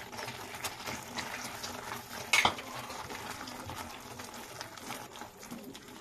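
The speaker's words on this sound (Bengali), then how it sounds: "একটু ভালো করে নাড়িয়ে চাড়িয়ে এর মধ্যে দিয়ে দেবো সেই ভেজে রাখা ডিমটা" Chilli egg being stirred in a pan, a soft continuous bubbling and scraping with a brief sharp clink of a spoon on metal near the middle, fairly quiet and close.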